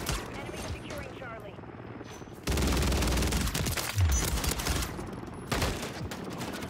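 Rival 9 burst-fire rifle shots in Modern Warfare III multiplayer, a dense run of rapid gunfire with booming impacts and chaotic game noise, loud and continuous across the whole stretch, with speech mixed in.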